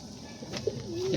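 Domestic pigeons coo close by in a backyard loft, with a few soft throaty coos rising over a low background hum.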